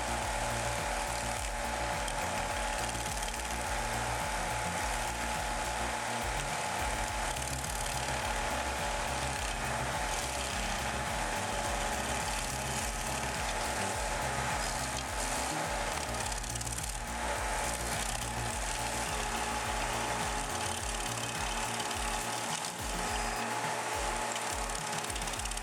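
Vermeer SC1052 stump cutter with a 115 horsepower engine clearing a tree stump, a loud, continuous engine roar mixed with grinding and chattering from the cutting wheel, steady for the whole stretch.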